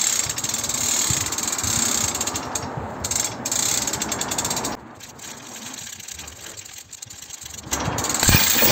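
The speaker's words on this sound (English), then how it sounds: "Doing a tensile test." Tensile testing machine pulling a 316 stainless steel ring hanger for canyoning and caving, giving a steady mechanical ratcheting, grinding whir that drops off briefly near the middle and returns louder at the end, with no talk.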